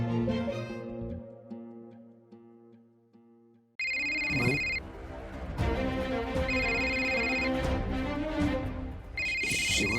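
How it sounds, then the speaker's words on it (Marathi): A phone ringtone starts abruptly midway and repeats as a bright electronic melody in steady bursts, loud and close, following a quieter stretch of sustained tonal background music. "शिवाचा फोन आहे"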